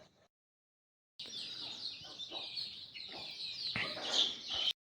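Free-range village chickens cluck in a close, busy chorus of overlapping calls that starts after a brief silence and swells toward the end.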